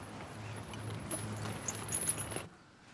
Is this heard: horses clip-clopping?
yes